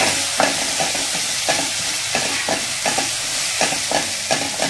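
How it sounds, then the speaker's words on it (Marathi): Green chili, garlic and ginger masala sautés in hot oil for bread rolls, a loud continuous sizzle with rhythmic spatula scrapes and stirs every half second or so, close and without talking. "मसाला आपल्याला छान असा परतवून घ्यायचा आहे।"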